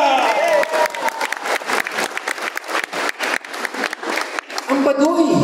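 Audience applause and cheering at a networking team event, with dense clapping throughout and crowd voices mixed in, loud and sustained for several seconds.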